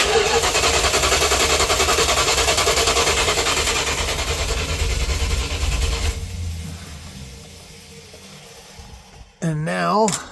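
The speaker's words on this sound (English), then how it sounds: "So I'm just going to give it a little cranky crank" An old green truck's engine turns over steadily and loudly for several seconds, then the cranking fades into quieter mechanical rumble before a brief sharp burst near the end.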